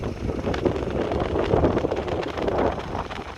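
Outdoor wind buffets the microphone in continuous rough, rumbling gusts beside parked Haval H9 diesel and Prado 150 vehicles, with no other clear sound.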